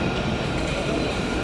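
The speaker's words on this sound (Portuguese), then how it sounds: "O bonde aí passando aí. No centro do Rio de Janeiro." A tram passes through downtown Rio de Janeiro with a steady, loud rolling rumble of wheels on rails that continues without a break and no voices over it.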